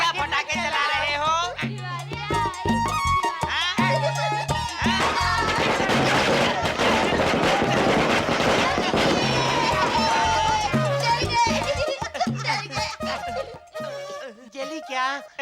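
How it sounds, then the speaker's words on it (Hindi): Firecrackers going off in a home scene, a burst of crackling pops and bangs in the middle, with people and children talking loudly over and around it. "ये क्या पटाखे चला रहे हो?"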